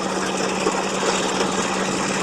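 A recycled engine drives a river ferry built from a section of an old Red Army pontoon bridge on the Taipale River, giving a loud, steady, close-up mechanical drone with an even hum that never lets up.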